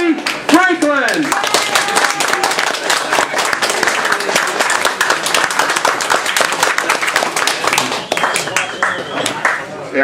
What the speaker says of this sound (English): let's have a warm round of applause for our speaker tonight, Dr. Cory Franklin.